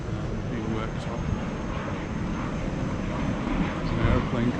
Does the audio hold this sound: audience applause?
no